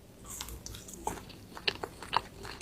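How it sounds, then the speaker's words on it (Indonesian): Crunchy bites into oven-baked triple mix brownies topped with three toppings and ice cream, several sharp close-up crunches spaced irregularly, the last one loudest, with no talking. "brownies oven triple mix kita makan pakai ice cream"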